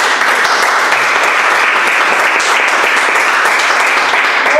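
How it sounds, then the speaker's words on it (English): An audience at a public speaking event gives a loud, full round of applause for a speaker, a thick, unbroken roar of many hands clapping at close range and at a steady level. "Ladies and gentlemen, please can we give her a wonderful round of applause, please?"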